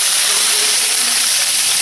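Pork belly stock hits a hot pan of sautéed garlic for pancit canton, sending up a loud, steady hiss of steam that fills the whole moment without pause.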